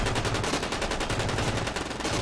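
Rapid automatic gunfire rattles nonstop in Ravenfield, a stick-figure battle game, with dense, loud bursts of shots piling up close by and no talking.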